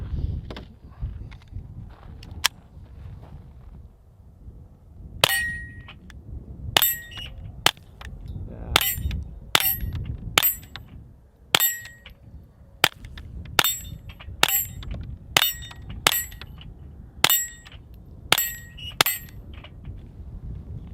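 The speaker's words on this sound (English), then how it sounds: "now I'm shooting a CCI suppressor" Sharp, quiet pops of a Taurus TX22 .22 pistol firing CCI suppressor ammunition at an outdoor range, about fifteen shots in an irregular string, each crack brief and clean with faint metallic clinks between.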